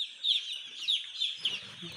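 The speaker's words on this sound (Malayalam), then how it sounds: "അപ്പോൾ നമ്മുടെ കോഴിക്കുഞ്ഞെത്തി" Broiler chicks on their first day at a farm peep in high, thin chirps, a few bursts spaced across a couple of seconds, close by and fairly quiet.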